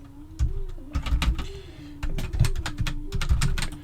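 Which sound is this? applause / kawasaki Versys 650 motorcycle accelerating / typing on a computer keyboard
typing on a computer keyboard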